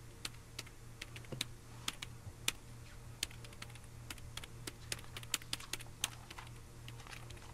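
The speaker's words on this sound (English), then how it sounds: "The librarian is torturing her keyboard." Computer keyboard typing in the adventure game Broken Sword 2.5, a librarian's keys clattering in quick irregular bursts of sharp clicks, fairly faint over a steady low hum.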